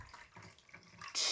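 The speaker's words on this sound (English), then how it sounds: "you're gonna take your cup, scoop a little bit of water, and pour it on the milk" Water is scooped with a cup and poured while a small ball python is being cleaned: faint sloshing, then a sudden louder close splash of pouring.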